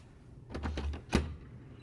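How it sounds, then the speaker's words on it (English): A hotel room door at a Blue Mountain, Ontario resort is opened, giving a short rattle of handle and latch followed by one sharp thunk, heard close and alone. "Why did you open the door?"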